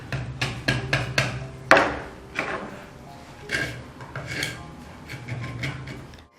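A wood chisel carves at a wooden piece in an art studio, making a run of close scraping strokes and dull knocks, one louder hit, in an uneven working rhythm.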